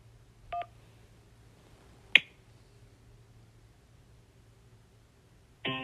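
A phone keypad tone sounds as 2 is pressed on a call menu, one short beep near the start, then a sharp click and a longer tone at the end, over a faint hum.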